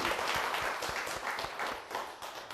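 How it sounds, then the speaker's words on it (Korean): Lecture audience applauding after a laughter-therapy speaker's cheer for blessings in the new year, a steady, dense patter of many hands clapping throughout, fairly loud and close, with no voices over it. "박수."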